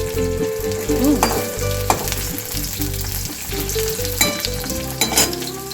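Potato and ivy gourd fry together in a pan, giving a steady close sizzle with repeated scraping and stirring clatter from a spatula throughout, with no talking.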